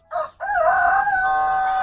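A rooster in a backyard chicken coop crows one short call, then a long, loud crow that holds steady to the end, close and clear with no talk.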